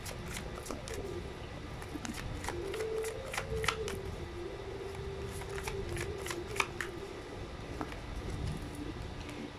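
Tarot cards being shuffled close up, a continuous riffling and flicking with sharp card snaps scattered throughout, under a faint background tone and no talking.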